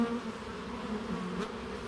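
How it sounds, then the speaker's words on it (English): A dense, steady buzzing of many honey bees swarms together close up at an open hive, a continuous hum with no pauses. "See lots of happy bees."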